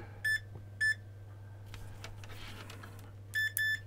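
Short electronic beeps from a multimeter on continuity test during a Panasonic VCR/DVD combo repair: a pair of single beeps, a pause, then a quick double beep, clear over a low steady hum.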